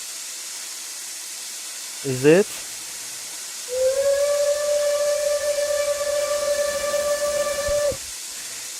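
Single-chime steam whistle of locomotive 2101 in the RO-Scale sandbox game: one steady, clear blast lasting about four seconds over a soft hiss, preceded by a brief spoken question.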